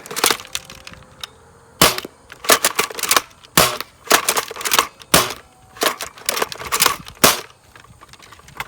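A Dart Zone Pro MK-1 foam dart blaster firing repeatedly: a rapid, irregular series of sharp, dry snapping clicks and clacks, close and fairly loud, with no voices.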